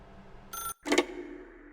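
A telephone rings in The Stanley Parable video game: a short, bright electronic ring followed by a louder, sharper burst, heard alone and close.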